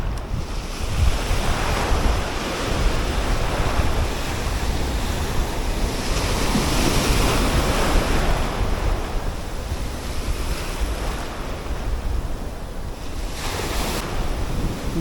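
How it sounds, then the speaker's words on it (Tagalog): Strong sea waves pound a shoreline during the southwest monsoon, a loud, continuous roar of surf with swelling crashes every few seconds, heavy wind buffeting the microphone throughout and no voices. "Lalakas nitong alon, nakakatulak pa rin."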